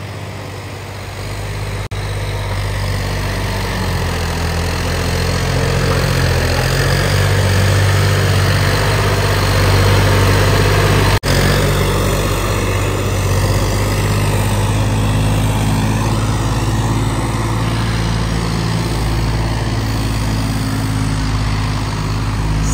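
A John Deere 5310 farm tractor, upgraded by 25 hp, runs with a steady, loud, low diesel drone close by. The engine holds an even idle and rises slightly in the middle, with no talking.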